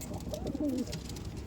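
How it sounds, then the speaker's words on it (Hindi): Soft, low coos from Rampuri and Firozpuri pigeons in a cage repeat in a short murmuring phrase, close by against a steady background hum. "ये मैंने कुछ कबूतर पिंजरे में छोड़े हुए हैं"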